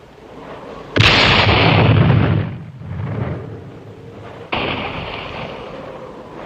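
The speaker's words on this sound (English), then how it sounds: "Our mortar has hit their mines." Mortar shells striking a minefield in a spy-thriller battle scene: a sudden loud blast with a long rumbling roar, a quieter stretch, then a second sharp explosion with another rolling rumble.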